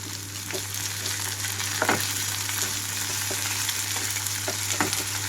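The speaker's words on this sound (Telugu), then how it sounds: "ఇప్పుడు ఇందులోకి నేను అల్లం వెల్లుల్లి పేస్ట్ కూడా వేసేసుకుంటున్నాను." Onions frying in a pan with ginger garlic paste and curry leaves for an Andhra egg gravy curry, a steady close sizzle with occasional stirring scrapes over a constant hum, no talk.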